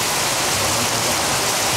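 Heavy rain mixed with hailstones pours down during a storm, a dense, steady, loud hiss with no breaks and no voices.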